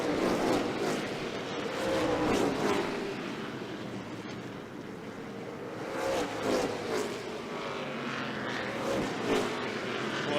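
NASCAR K&N Pro Series West race cars racing at Douglas County Speedway, with a sustained engine roar that swells and fades as cars pass, heard at moderate distance under a commentator's voice.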